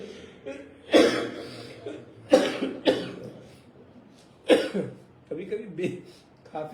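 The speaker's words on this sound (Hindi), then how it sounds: "खांसी का बेग आ जाता है" Several harsh coughs burst out at irregular intervals, with throat clearing and breathy sounds between them, from a speaker during a Hindu religious discourse.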